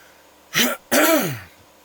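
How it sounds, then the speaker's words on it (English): A single close throat clearing, a short rasp followed by a longer rumbling grunt, then quiet. "Let me clear my throat"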